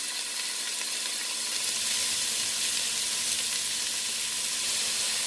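Onions and bell peppers fry in a pan for Cajun pasta jambalaya, giving a steady, bright sizzle that holds even throughout with no talking.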